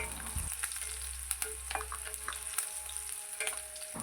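Green chillies fry in oil in a pan, a close steady sizzle with scattered crackles and pops over a faint low hum.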